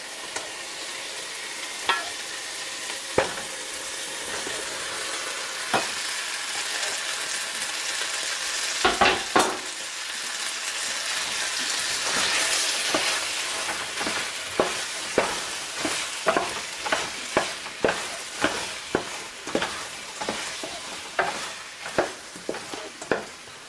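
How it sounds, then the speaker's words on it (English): Chopped tomatoes sizzle in a pan for a ragu, a steady hiss broken by sharp scraping strokes of a spoon, sparse at first and then coming in a quick regular rhythm toward the end, with no talking. "And it's at this stage I add 5 chopped tomatoes"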